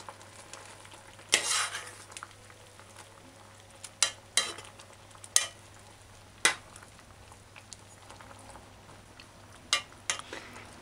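Okra and spring beans being stirred in a cooking pot, with sparse scraping and clinking spoon strokes over a quiet low hum and no speech.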